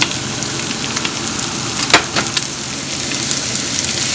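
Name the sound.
garlic and onion sizzling as they fry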